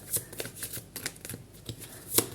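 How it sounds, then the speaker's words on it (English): Tarot cards are shuffled close by in quick, crisp riffles and soft slaps, a string of light papery flicks ending in a sharper snap, with no talking. "Okay, so let's shuffle one more."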